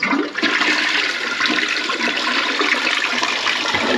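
A toilet in a home bathroom, recently clogged, flushes with a loud, close, continuous rush of swirling water that holds steady for the full few seconds.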